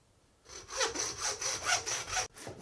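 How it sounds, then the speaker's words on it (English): Knife and saw cutting through lamb bone during whole-lamb butchering: about eight steady back-and-forth saw strokes, close and rhythmic, ending abruptly as the blade breaks through. "Always with sawing, as soon as you hear that it's gone through the bone, stop"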